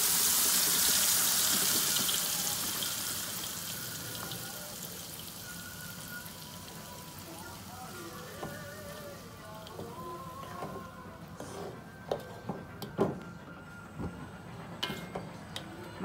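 Ground spice paste for beef curry hits hot oil in a pan, a loud broadband sizzle that fades over several seconds into a steady softer frying hiss with scattered small pops and clinks.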